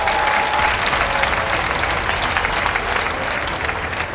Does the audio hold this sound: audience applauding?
yes